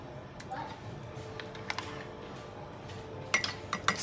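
A spoon clinks against a cup as tablespoons of milk are added to egg for a microwave omelette, giving scattered light taps that end in a quick cluster of sharper clinks near the end over a quiet room.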